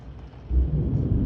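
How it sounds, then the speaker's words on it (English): Deep thunder rumbles through a lightning storm with hail starting, a low boom swelling halfway through and rolling on loudly to the end, with no voices. "And the thunder."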